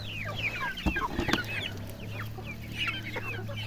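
Several chickens cluck and chatter continuously at moderate distance, with a steady low hum underneath and a couple of sharp knocks.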